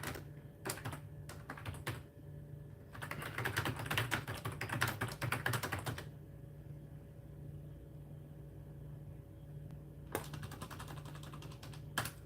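Bursts of fast typing on a computer keyboard, clattering keystrokes in quick clusters separated by quieter pauses, close and fairly soft with no talk.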